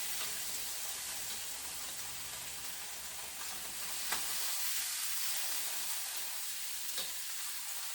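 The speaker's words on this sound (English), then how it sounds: "I'm going to pan fry like one side, and then I'm going to move to the other side." Stuffed tofu pan frying in a pan gives off a steady, close sizzle with a faint hiss throughout, broken by a couple of small pops and clicks, with no talking.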